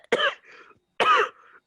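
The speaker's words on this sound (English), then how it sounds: "Elsie, you're coughing" Two harsh, throaty coughs about a second apart, each followed by a brief rasping tail, close and fairly loud with silence around them.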